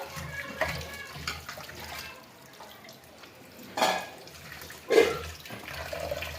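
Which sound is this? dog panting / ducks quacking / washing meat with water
washing meat with water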